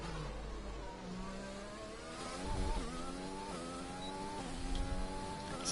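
Racing game car engine on a fast out lap at Austria in practice, a steady high rev with rising gear-by-gear pitch sweeps and brief upshift dips, loud and continuous with no talk.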